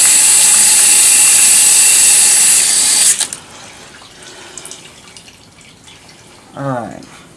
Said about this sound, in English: Man, that water's hot.